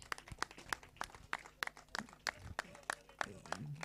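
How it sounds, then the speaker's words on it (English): Scattered clapping from a small crowd at a badminton league auction event greets the runners-up trophy, with individual claps audible at a quick, uneven rhythm and quiet chatter mixed in. "Big round of applause"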